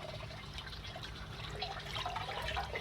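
Water rinses out of a rusty Honda VFR400R fuel tank as a faint, steady trickle and gurgle.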